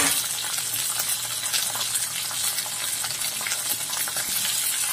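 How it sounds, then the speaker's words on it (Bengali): Raw green peas frying in mustard oil for matar paneer give off a steady, dense sizzle that holds at an even level throughout, with no voices. "তাই মটরগুলো একটু ফ্রাই করে নিচ্ছি।"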